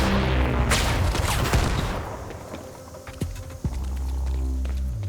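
Loud shotgun blasts and heavy gunfire echo through a Quantum Break firefight, a dense burst that fades, then two sharp shots follow near the end.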